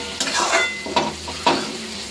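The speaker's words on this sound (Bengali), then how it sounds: "তো এখন দিয়ে দেব রসুনটা, এই যে রসুন অ্যাড করছি।" Garlic frying in a pan sizzles steadily while being stirred, with three distinct scraping sweeps of the utensil roughly half a second apart, close and clear.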